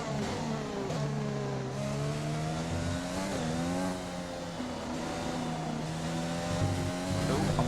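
Formula 1 race car engine in the F1 2020 video game at the Australian Grand Prix, a loud steady whine shifting pitch with gear changes and revs, close and continuous throughout.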